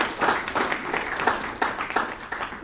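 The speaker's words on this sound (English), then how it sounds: "So please give them a round of applause." An audience at a university cybersecurity society career panel event applauds, a dense steady patter of many hands with a few sharper claps standing out.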